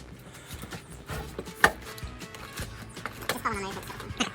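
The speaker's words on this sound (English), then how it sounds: "Little bits hanging out here and there, so you just trim it off with your chisel" Chisel trimming small overhanging bits off a timber bifold door, a series of irregular short taps and scrapes close by, with a person talking over the work.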